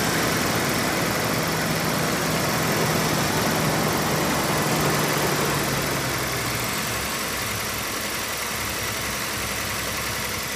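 A second-generation Toyota 4Runner's cold engine idles steadily up close, a continuous low rumble with a slight drop in pitch partway through, no voices.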